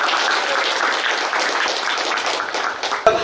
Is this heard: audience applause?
yes